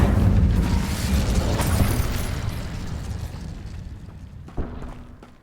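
A booming fiery burst from the Incendio spell in Hogwarts Legacy, a loud rumbling blast that slowly fades, followed by a small pop near the end.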